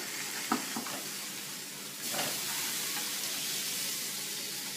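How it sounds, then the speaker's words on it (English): Steak dropped into a hot pan, a loud broad sizzle that swells as the meat hits and then holds steady and close, after a few light knocks. "Steak's going on"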